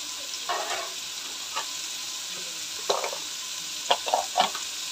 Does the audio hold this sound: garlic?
yes